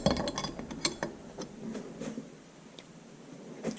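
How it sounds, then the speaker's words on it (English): Quick run of light metallic clicks from a wrench ratcheting on the oil pump of an IHC Farmall Super MTA tractor under rebuild, close and fairly quiet, with short pauses between bursts. "and then use the wrench."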